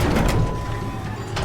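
Elevator door in the SCP Containment Breach video game sliding open, a rumbling mechanical slide with a faint steady whine, close and moderately loud, with no speech.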